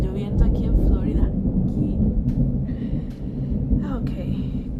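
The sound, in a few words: rain and thunder in Florida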